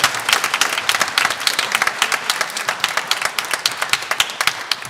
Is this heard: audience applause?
yes